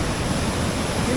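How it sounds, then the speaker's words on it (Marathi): A wide river flooded by dam overflow rushes past at high speed, making a close, steady broadband roar of churning water with no pauses. "एवढ्या स्पीडने पाणी पळत जाते."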